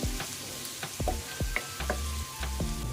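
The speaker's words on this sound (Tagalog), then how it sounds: "Isa lang natin maigi hanggang lumabas yung katas o amoy ng ginger." Ginger sautés in a pan with a lively crackling sizzle, broken by repeated scraping strokes and clanks of a utensil stirring against the pan, close up and without talk.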